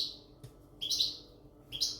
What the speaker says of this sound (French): Donc dans la pièce, vous attendez un oiseau chanter.